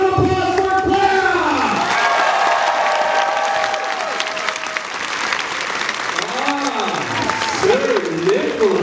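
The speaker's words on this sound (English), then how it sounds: "My lords and ladies, a nice round of applause for Claire!" Crowd applause at a renaissance festival, loud and sustained throughout with cheering voices rising over dense clapping, and a voice calling out near the end.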